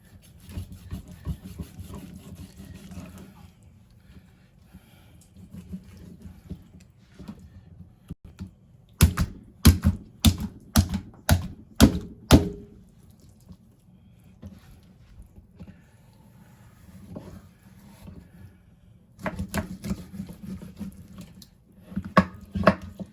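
A knife chops through catfish on a cutting board while the fish is prepared for cooking in Nigerian style, a quick burst of about seven sharp, close knocks followed later by a further cluster of cuts, with quiet handling noise in between.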